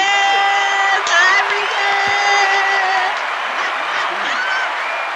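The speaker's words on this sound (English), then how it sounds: "Give Ivory a round of applause" Clapping and cheering for a person named Ivory during a live show, loud and close, with a voice and whoops mixed in over the applause.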